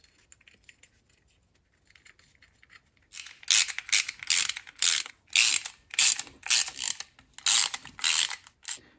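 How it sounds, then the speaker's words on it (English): Bolts being ratcheted tight on the auger disc of a 25-year-old MTD Yard Machines snow blower, a rapid series of loud, close ratchet clicks in regular bursts after a quiet start. "I'm going to start by putting in the 3 bolts that are easy."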